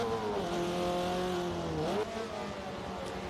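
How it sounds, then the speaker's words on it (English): A Honda race car in a racing video game downshifts: the engine's whine falls steadily in pitch, then jumps sharply at the gear change and settles into a lower drone. "So you can hear the downshift."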